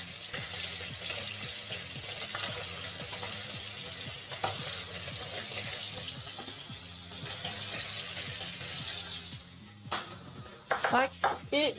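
Onions sizzle and fry steadily in a hot pan while being stirred, with scraping and light utensil clatter throughout and a few sharper clinks near the end.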